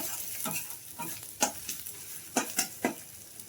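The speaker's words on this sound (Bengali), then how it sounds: "এখন নাড়াচাড়া করে ভালো করে মিশিয়ে নেব" Spices, including Kashmiri red chilli, fry in a pan as a spoon stirs them, producing a soft sizzle punctuated by several sharp scraping strokes at irregular intervals.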